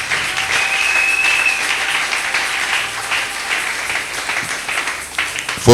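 Sustained audience clapping and applause at a religious gathering honoring the Lord, steady and fairly loud throughout, with a brief louder burst at the end.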